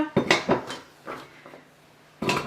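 Chopped zucchini pieces dropped into a cooking pot, giving a few close clattering knocks and light thuds in quick succession, then a pause and one last clatter.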